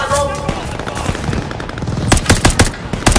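Rapid gunfire in the Call of Duty: Vanguard campaign, a dense burst of close shots speeding into quick machine-gun rattles, loud and punchy, with faint talk underneath.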